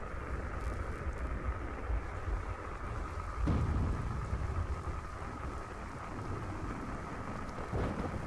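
Heavy rain pours in a steady, dense roar, with a deep rumble of thunder swelling midway and another softer rumble near the end.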